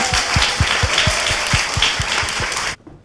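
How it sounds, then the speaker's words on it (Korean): An audience breaks into loud, dense applause, with a few sharp rhythmic claps standing out, sustained for nearly three seconds before cutting off abruptly into near silence. "다시 박수."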